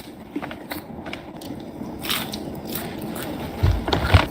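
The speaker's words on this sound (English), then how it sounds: "That's the chewing sounds for me" Popcorn being chewed up close: irregular crunchy bites and crackles over a soft, scratchy background, growing louder and heavier toward the end, with no speech.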